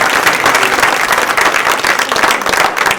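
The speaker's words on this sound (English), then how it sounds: "why don't you applaud our moderator?" Crowd at a county treasurer candidate forum keeps up loud, dense clapping for the moderator, a brief steady burst of applause throughout.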